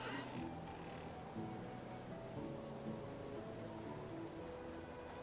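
Steady rain falling in the survival game Medieval Dynasty during a rainy summer, a soft continuous hiss with low ambient tones beneath, fairly faint and without talking.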